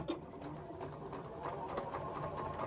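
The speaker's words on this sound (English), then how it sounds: "I'm going to go ahead and sew this at 1/4 inch" A sewing machine stitches a quarter-inch seam on a scrappy Christmas tree quilt table runner, making a rhythmic mechanical whir with regular needle clicks. The stitching holds a steady pace throughout at close range.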